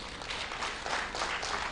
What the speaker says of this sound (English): Another round of applause for our chair